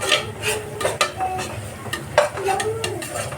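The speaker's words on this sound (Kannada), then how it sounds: "ಇಲ್ಲಿ ಸ್ವಲ್ಪ ಎಣ್ಣೆ ಬಿಡೋರಿಗೆ ಈ ಥರ ಫ್ರೈ ಮಾಡ್ಕೋಬೇಕು" Spinach (palak) paste frying in a little oil, stirred with repeated close scraping strokes over a soft, steady sizzle.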